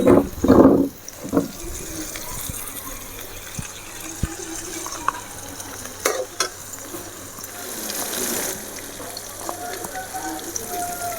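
Ginger garlic paste frying with softened tomatoes in a pan for a mutton lung and liver gravy: a couple of loud bursts at first, then a continuous low sizzle with scattered clicks of stirring.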